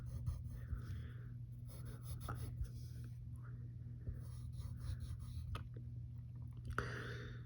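A pencil sketches a cartoon superhero's mask shape on paper in short scratchy strokes with brief pauses, close and quiet over a low steady background hum.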